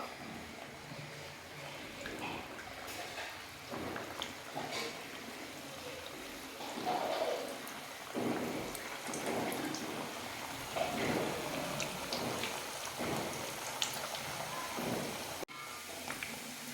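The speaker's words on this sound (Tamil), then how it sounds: "இப்போ நம்ம அடுப்பை மீடியம் ஃப்ளேமில் வச்சுட்டு இந்த தட்டி வச்சுருக்கிற உருண்டைகளை இதில் சேர்த்துக்கலாம்" Flattened semolina dough balls fry in hot oil over a medium flame, giving a steady, close sizzle and crackle that runs throughout.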